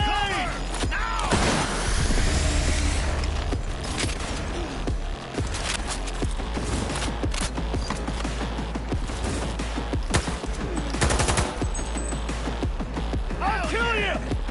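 Continuous gunfire and explosive booms in Cyberpunk 2077 on PS5, dense and loud throughout, with shouting voices mixed into the battle.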